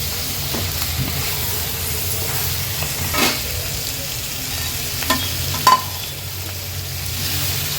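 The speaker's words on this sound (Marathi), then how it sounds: "आता हे स्वच्छ धुतलेलं मटण आपण ॲड करूया मटण तेलावर छान परतून घ्यायचं आहे" Washed mutton sautéing in hot oil with turmeric and masala for a dry mutton sukka, a steady close sizzle with stirring scrapes and a few brief louder clatters, no talk.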